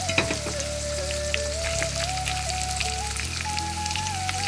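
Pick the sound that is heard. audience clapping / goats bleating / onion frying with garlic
onion frying with garlic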